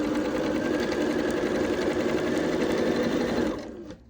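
A sewing machine runs over a folded quilt seam, producing a loud, close, continuous motor hum and needle chatter that holds steady and then winds down at the end.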